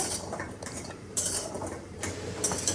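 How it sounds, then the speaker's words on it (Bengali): Washed vegetables going into a pan on a home kitchen stove: a few separate metallic clanks and scrapes of cookware and utensils, close by and fairly loud, with quieter handling noise in between and no talking. "সবজি এখন রান্না চুলাই দিব"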